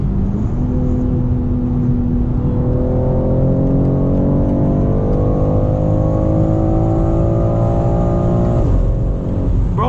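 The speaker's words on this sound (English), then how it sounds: "Bro, the shift sound is insane. It echoes in the car." A 2022 BMW X3 M Competition accelerates hard from inside the cabin, its engine note climbing loudly through several rising sweeps, each broken by a quick gear shift, with a final sharp shift near the end.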